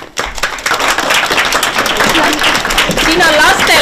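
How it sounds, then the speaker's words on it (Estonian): Audience applause for kindergarten teachers at a book presentation event, a dense sustained wash of clapping across the whole moment, loud and continuous with crowd noise mixed in. "suur aplaus!"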